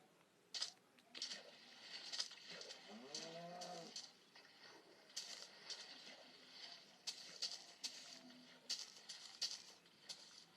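Cows moo in the Minecraft video game, a few drawn-out lowing calls among sparse clicks and soft game sounds, fairly quiet with no talk.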